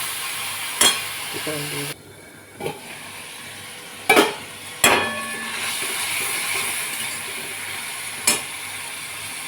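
A spiced curry with green chilli, salt, turmeric and a little sugar is sautéed in a pan, giving a low steady sizzle broken by sharp utensil knocks and scrapes, with a brief spoken phrase near the start.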